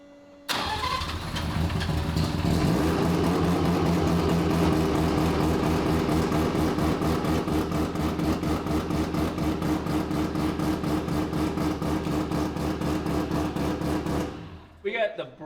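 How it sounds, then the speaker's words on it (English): A freshly built full billet dry-sump three-rotor rotary engine, running without coolant, fires up for the first time, catching after a brief crank and settling into a loud, rapid, even brapping idle before cutting off abruptly near the end. "We don't even have coolant in the engine, it's brapping already."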